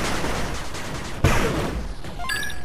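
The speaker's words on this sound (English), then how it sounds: "Two minigun turrets to greet me here." Minigun turrets firing in the pixel-style strategy game 8-Bit Armies, a dense continuous rattle of rapid shots with a sharp blast partway through, amid busy battle noise and small electronic blips at the end.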